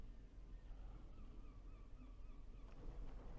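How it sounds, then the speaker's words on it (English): Faint gull calls rise and fall over a low, steady outdoor rumble at Scarborough, distant and intermittent, with no speech. "the seagull screaming away"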